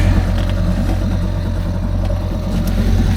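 Engine of a Merry Fisher 695 motorboat idling steadily at a mooring, a close, loud low rumble with a constant throb and light mechanical clatter, no one talking.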